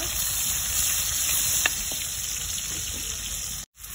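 Pork fries in oil with garlic and onion, a steady close sizzle with a couple of brief stirring clicks, then a short cutoff near the end.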